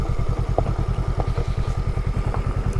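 A Honda Rebel 500 motorcycle is ridden through the West Virginia countryside, its engine throbbing in a steady, even low pulse, loud and close, with no talking.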